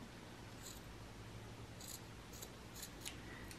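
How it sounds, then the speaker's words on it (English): Scissors snipping paper while crafting junk journal pockets, a quiet series of short, crisp cuts spaced irregularly over faint background noise. "So I'm going to cut that"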